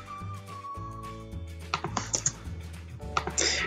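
Keys on a computer keyboard are typed in quick, light clicks arriving in short bursts, close and clear over a faint steady hum.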